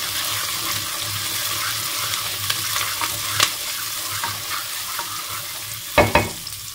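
Food sizzles steadily in a pan as it is stirred and turned, a constant frying hiss with a low hum beneath, a few soft utensil clicks and two sharper scrapes near the end.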